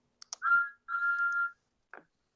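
A voice imitates a train engine's odd-sounding whistle with two clicks, then a short held tone, a longer held tone and a brief final blip, all alone against silence.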